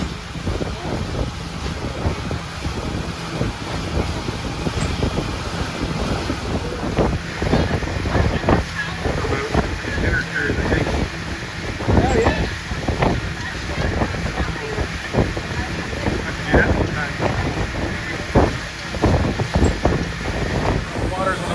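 Strong wind roars and buffets the microphone continuously over the rumble of a moving boat and splashing water on the Dora Canal, Mount Dora, Florida.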